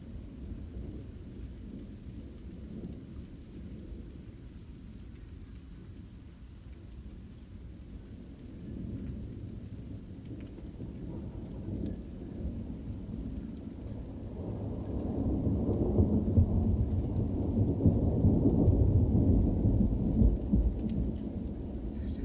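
Thunderstorm with rain at night in Seaford, UK, with a constant low rumble of thunder over steady rainfall that swells louder and closer near the end, and no voices.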